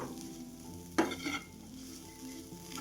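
Masala sweet corn with a little coriander being stirred and sautéed in a kadhai, giving a soft steady sizzle with a single sharp scrape of the spoon partway through, quiet and close.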